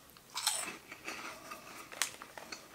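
Crunchy puffed salty cheese snack rings are bitten and chewed close up, giving sharp crisp crunches followed by softer irregular mastication, with no talking.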